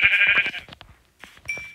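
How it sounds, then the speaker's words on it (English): A Minecraft sheep lets out a loud, close bleat, followed by a few quieter clicks and game sounds and a brief second bleat-like tone. "Oh, look, it's another sheep."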